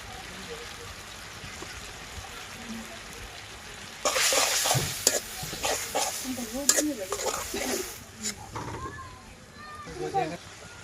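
Masala of chili, turmeric and other ground spices frying and being stirred in oil for a village-style river baim fish curry with tomato; a quiet stretch, then scraping stirs and sizzling bursts, with a voice talking.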